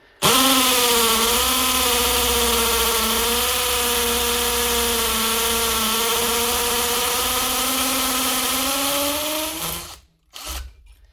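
A LEADER cordless drill hammering into silicate brick runs continuously at a steady, loud whine with a rattling hammer vibration for about ten seconds, then cuts off.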